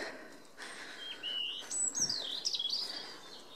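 Several birds singing in woodland: high chirps and whistled phrases from a few directions, moderately distant and fairly faint over a soft background hush, with no talking.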